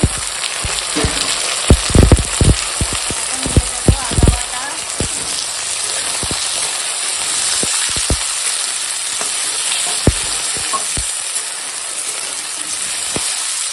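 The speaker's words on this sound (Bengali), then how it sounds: "এই কেটে টুকরো করে রাখা আলুগুলো দিয়ে দিলাম আলুগুলো ভেজে নেবো" Cut potato pieces fry in hot oil in a pan, giving a loud, steady sizzle with a run of sharp stirring clacks in the first few seconds and scattered knocks after.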